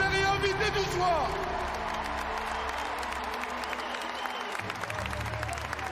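A crowd at a France versus England all-star football match applauds the visiting opponents and guests, with broad clapping and some cheering under an announcer's amplified voice in a large, echoing venue.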